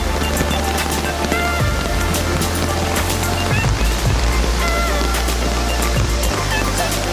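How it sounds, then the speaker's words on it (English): A waterfall beside a river makes a constant, loud, full-bodied rush of water with no breaks, heard close up with some low rumbling underneath. "Waterfall."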